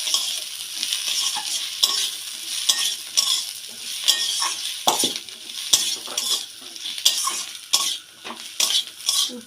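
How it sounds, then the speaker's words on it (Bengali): Spiced momo filling with coriander, cumin and fennel powders frying in a pan, a soft sizzle broken by repeated metal spoon scrapes and clinks against the pan in an irregular stirring rhythm, close up and without voices. "এটা ভালো করে ভেজে নেব।"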